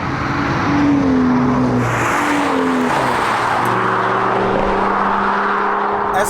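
A BMW M2 being driven, with a steady engine drone and tones that rise and fall as the car shifts through gears, heard from inside the cabin.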